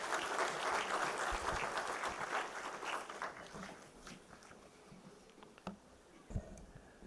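An audience at an e-mobility workshop applauds to welcome a speaker, a moderately distant burst of clapping that starts full and gradually thins out, leaving a few scattered claps and faint room noise by the end.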